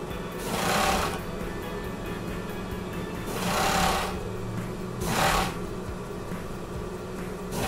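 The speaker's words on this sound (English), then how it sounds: "Now we want to go ahead and sew up the curved piece here." A sewing machine runs in three steady bursts while stitching a curved seam on swimsuit fabric for a bathing suit bottom, its whirring motor rising and falling between pauses, with no talk.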